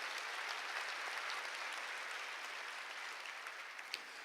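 Church congregation applauding during a Korean pastor's sermon, a faint, even patter of many hands clapping together without talk.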